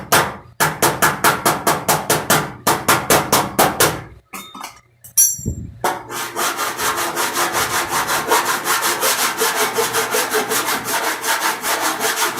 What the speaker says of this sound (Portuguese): Passa lima, assim aparecem as partes altas, aí dá pra trabalhar em cima disso.